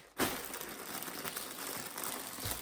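Lost parcels are unwrapped, with packaging crumpled and crinkled continuously in a dense, close rustle after a sharp onset.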